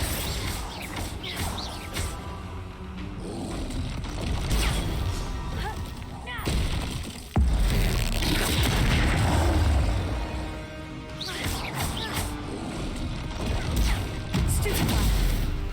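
Spell combat in the video game Hogwarts Legacy, with dense, continuous crashing blasts, whooshes and impacts layered over one another and loud throughout, as a voice calls out spell names over the action.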